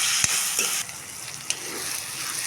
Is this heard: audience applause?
no